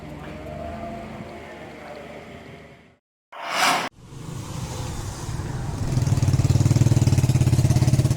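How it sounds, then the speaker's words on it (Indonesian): Motorcycles fitted with loud racing exhausts at a police traffic raid in Bandar Lampung, rough engine droning and idling, briefly cut off, then a louder revving roar building toward the end. "Puluhan motor yang menggunakan knalpot suara bising atau knalpot racing terjaring razia"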